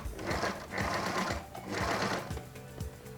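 A sewing machine edge-stitches a pair of men's native trousers with rope ties, running in close, rhythmic bursts of mechanical whirring and needle clatter with short pauses between each pass.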